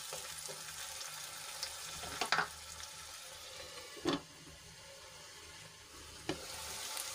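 Onions and tomatoes cook in a covered pan, giving a quiet, steady sizzle with faint water-like hiss throughout and three brief soft clinks or bumps spaced a couple of seconds apart.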